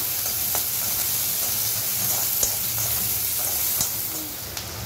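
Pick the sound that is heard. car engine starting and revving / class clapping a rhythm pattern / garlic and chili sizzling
garlic and chili sizzling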